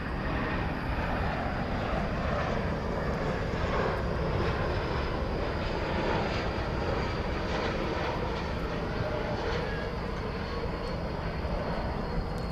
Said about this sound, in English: It's an Airbus A220 coming in from its hub in Salt Lake City, Utah.